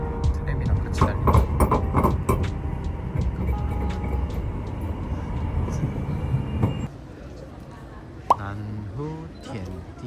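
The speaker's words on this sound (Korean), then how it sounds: "트램이랑 같이 달리고." A tram rolls alongside on a street in Jiaxing, a loud rumbling run that cuts off partway through, with people talking over it and street sounds after.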